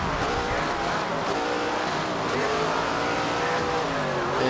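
Race car engines roar loudly and continuously as cars accelerate away at a race start in the stock car game SRX The Game at Madison Lake, rising engine tones layered over a speaking voice.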